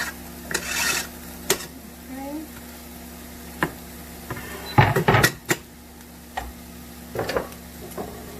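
Chopped onion and habanero going into a pan, a faint sizzle under scattered clatter from a spoon and utensils, with loud clustered knocks near the middle and someone briefly talking nearby.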